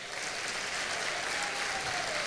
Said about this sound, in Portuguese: aplauda o Senhor pela vida deles